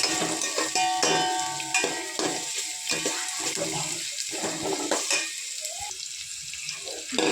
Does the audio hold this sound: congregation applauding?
no